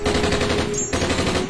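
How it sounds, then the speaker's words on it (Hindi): A gunfire sound effect of border firing: rapid machine-gun bursts, loud and close, a tight rattling stream of shots with a brief break partway through. "कल सरहद पे गोली चली"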